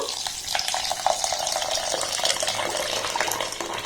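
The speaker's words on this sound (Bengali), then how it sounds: "এবার এখানে আমি জল দিয়ে দেব" Water is poured over rinsed rice in a bowl, a steady splashing gush that runs without a break and holds a moderate, close level throughout.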